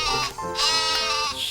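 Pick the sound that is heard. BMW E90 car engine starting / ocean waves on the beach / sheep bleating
sheep bleating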